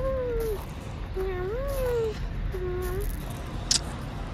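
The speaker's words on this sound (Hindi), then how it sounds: "बिल्ली बोले म्याऊ" A cat meows three times in drawn-out, wavering calls spaced about a second apart, fairly close over steady background hiss, with one sharp click near the end.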